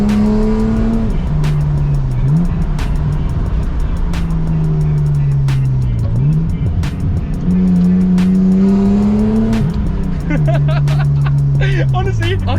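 An old BMW engine revs repeatedly while driving, rising and falling through the gears in long sweeping pulls, loud and close and continuous throughout.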